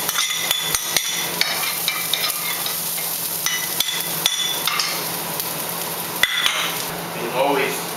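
Ginger and garlic being stir-fried in a pan alongside rice, with steady busy clattering and scraping of a utensil against the pan over a constant sizzle, plus sharp knocks throughout.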